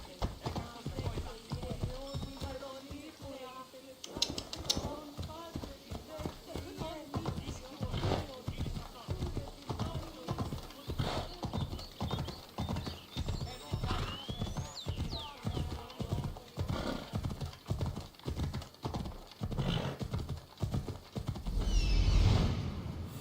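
A horse galloping in Assassin's Creed Odyssey, a steady, fast run of loud rhythmic hoofbeats through most of the stretch, with a brief neigh and speech heard over the game sounds.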